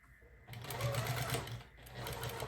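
A sewing machine stitching binding onto a quilt, its rapid motor whir starting after a quiet moment and running steadily, with a short pause before resuming.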